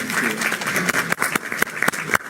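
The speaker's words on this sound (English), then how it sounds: "Can I just have a round of applause for a fantastic panel" Audience applause for a conference panel on African trade and cooperation: a dense, steady wash of clapping with sharper individual claps popping through, fairly close, no talk.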